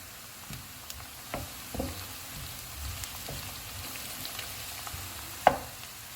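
Onions and green chillies fry in a pan for mutton malai boti, giving a soft, steady sizzle broken by scattered faint pops and one sharper crackle near the end, with no talking.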